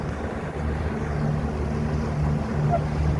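Motorboats running on a river, a steady mid-level engine drone with a faint hum throughout, no clear talk.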